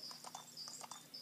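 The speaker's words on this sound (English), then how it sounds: "You press Y for the horse to like start walking and trotting and cantering and galloping" Horse hooves clip-clop at a steady walking rhythm in the Horses 3D video game, a run of light, evenly spaced clopping beats heard alone.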